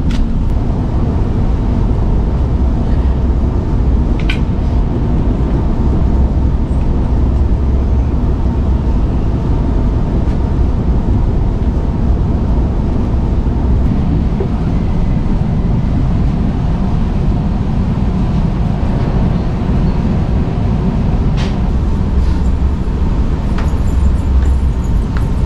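A double-decker passenger train travelling from Ratnagiri to Mumbai gives a loud, steady interior rumble and rushing roar, with faint occasional clicks and no talk.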